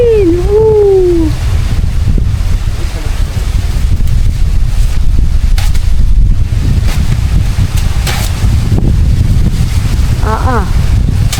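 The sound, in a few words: strong wind blowing on a boat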